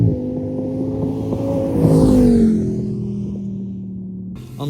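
Audi R8 V10 engine accelerating hard, a loud rising howl that swells to a peak midway, then eases into a lower sustained drone before a sharp burst at the very end.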